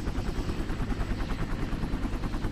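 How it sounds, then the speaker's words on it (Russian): A helicopter approaching in the Minecraft video game, its rapid rhythmic rotor chop loud and close, pulsing steadily throughout with no voices. "За нами вертолет прислали!"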